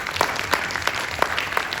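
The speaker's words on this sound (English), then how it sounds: "Please applaud." An audience at a National Theatre discussion of The Importance of Being Earnest claps together, a dense steady patter of many hands at close range with no voices over it.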